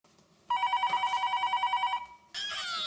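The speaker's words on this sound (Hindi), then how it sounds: "इतनी रात गए किसका फोन आया होगा?" A telephone rings at night with a loud, close, rapid bell trill lasting about a second and a half, then cuts off as other noise follows.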